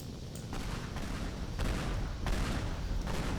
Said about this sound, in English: Oh, it just blew up.